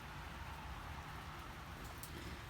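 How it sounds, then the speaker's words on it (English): Rain falling outside, a steady soft patter and hiss that stays even and fairly faint throughout, with no voices. "It's raining."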